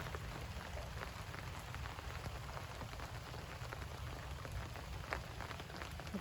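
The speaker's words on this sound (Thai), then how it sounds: "นี่ค่ะบรรยากาศช่วงฝนตก" Steady rain patters on a surface, a dense continuous hiss with scattered individual drops, soft and even throughout with no voices.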